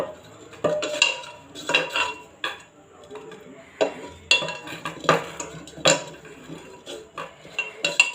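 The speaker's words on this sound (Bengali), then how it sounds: "এবারে মাটির হাঁড়িতে কিছুটা দই লাগিয়ে নেব।" A spoon scraping and clinking against the inside of a clay pot while smearing sour yogurt, irregular short knocks and scrapes separated by quiet gaps, close and distinct.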